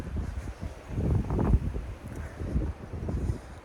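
Wind gusts buffeting the microphone outdoors in Spanish woodland, a steady low rumble that swells and eases in irregular surges, loud and close with no voices.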